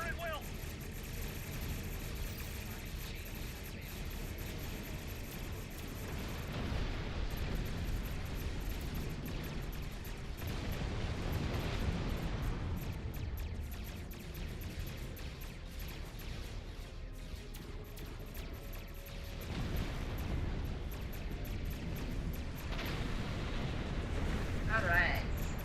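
Starship weapons fire and explosions in Star Trek Online during a starbase defense battle, a dense continuous roar of blasts and rumbling impacts with swelling bursts and a voice speaking over it.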